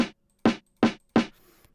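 A snare drum sample strikes four times in an even rhythm, each hit sharp and bright with a short decay, the last trailing into faint hiss.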